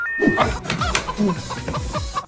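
Hens clucking close by in quick, overlapping bursts, with a rooster's calls mixed into the busy flock chatter.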